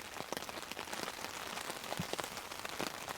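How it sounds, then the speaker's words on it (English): Heavy rain patters steadily on surfaces at a wilderness campsite, a dense close spatter of drops with scattered louder taps and no voices. "The rain's coming down pretty good now. Nice little pitter patter."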